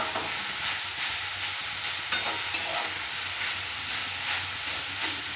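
Mushrooms and mixed vegetables sizzle in a pan with a constant hissing fry, while soft stirring scrapes come and go over it, close and steady throughout, with no speech.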